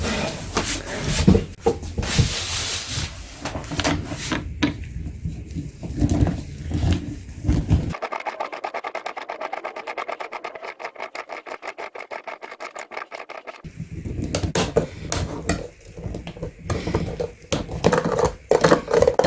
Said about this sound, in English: let's open this filter up and see what it looks like